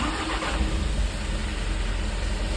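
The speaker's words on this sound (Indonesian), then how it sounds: "Kunci kontak on, tas starter." A diesel Canter Euro 4 truck engine cranks and catches, then runs at a steady, loud idle with a dense low rumble throughout.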